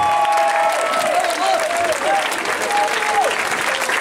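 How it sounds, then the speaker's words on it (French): Theatre audience at a Mamma Mia stage show applauds loudly and steadily, a dense wash of clapping with some cheering throughout, while a faint whistle or tonal line drifts over the crowd. "un triomphe d'applaudissements pour Mister Florian, s'il vous plaît"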